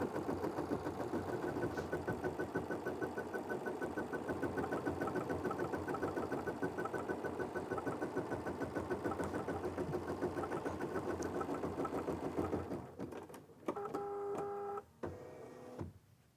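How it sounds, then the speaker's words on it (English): Embroidery machine stitching a design onto a quilt block, a steady low mechanical hum with fast rhythmic needle ticks running evenly for a long stretch, then stopping and giving way to a few beeps and short clicks. "I'm going to hit the start button, and the machine will take a few stitches, and it will continue to sew the embroidery design."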